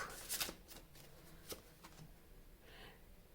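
Tarot cards riffled and shuffled by hand during a card reading, a quick burst of crisp flutters at the start followed by softer scattered card slaps and a faint final shuffle, close and quiet with no talking.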